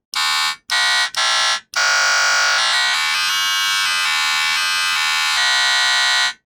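A Gravitone wavetable instrument plays back a waveform built from recorded accelerometer data, giving harsh, buzzy, alarm-like electronic tones: three short bursts, then a long sustained tone whose timbre shifts.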